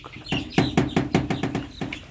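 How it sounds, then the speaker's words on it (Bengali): A fifteen-day-old tiger chicken chick cheeps in a quick series of about eight sharp, high peeps, close by and alone. "আপনাদের মাঝে নিয়ে এসেছি অরিজিনাল টাইগার মুরগি এটার বয়স মাত্র পনেরো দিন"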